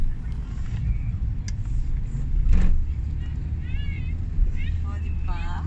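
A car drives through city streets in Saudi Arabia, its steady low engine and road rumble filling the cabin, with a brief louder swell midway and people talking over it.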